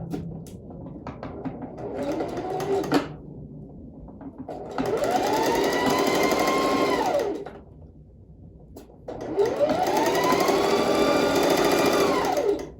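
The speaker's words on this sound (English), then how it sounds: "I'm going to start and end this with a back stitch." A sewing machine stitches a garment seam for a tie jacket in several close, steady runs, with short backstitch bursts and pauses between passes.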